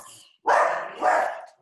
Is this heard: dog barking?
yes